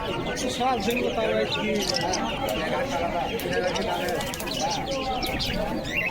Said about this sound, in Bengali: এখানে পাখি অনেকগুলো এনেছে আজকের হাটে